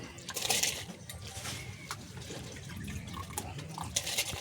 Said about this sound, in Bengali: জল ফুটে গেছে এখন চালটা দিয়ে দিচ্ছে